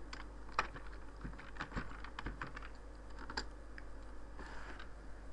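Quiet, close keystrokes typing a command on a computer keyboard, irregular clicks and taps spread across several seconds over a low steady hum, with no talking.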